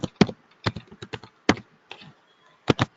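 Ad text being typed on a computer keyboard, crisp separate key taps in an uneven rhythm, close and clear with short pauses between strokes and no talking.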